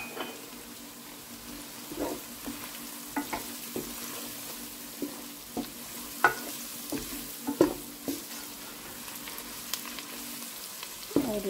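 Fish with salt, chili and turmeric stirred in a pan for a desi fish salan, giving a steady soft sizzle with regular scraping clicks of the spoon against the pan.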